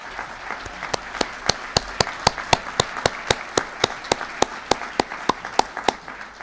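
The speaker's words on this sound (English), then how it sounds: "give her a round of applause" A forum audience applauds Congresswoman Grace Napolitano, with a few sharp, evenly spaced claps close by standing out over a steady wash of clapping for about six seconds.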